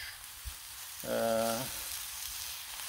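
Vegetables seasoned with salt, pepper and garlic sizzle faintly and steadily on a Blackstone flat-top griddle, a soft continuous hiss briefly interrupted by a short tonal sound.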